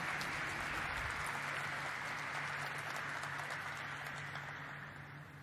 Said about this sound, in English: Let us have a resounding of claps